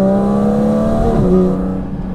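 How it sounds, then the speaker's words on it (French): A Porsche Cayman GT4 RS's flat-six engine drones loud and close, its harmonic tone holding steady, then rising briefly before easing off. "qu'on aille écouter le superbe son de son Flat 6"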